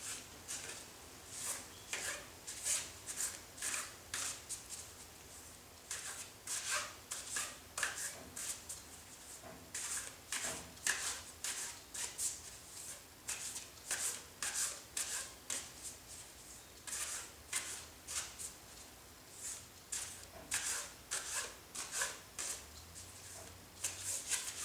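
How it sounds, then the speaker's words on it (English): A deck of cards for a reading is shuffled over and over, a long run of quiet riffling bursts in an uneven rhythm, close and soft, with no talking. "Okay, that was a big shuffle."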